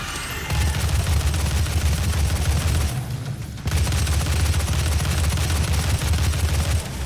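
Sustained rapid gunfire from the video game DOOM pounds loudly and almost continuously, breaking off for a brief moment before the barrage resumes.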